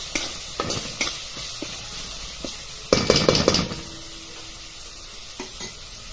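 Fresh grated coconut sautéing in a pan for a green peas curry, with a continuous sizzle, intermittent spatula knocks against the pan and a louder burst of vigorous stirring midway, close and without speech.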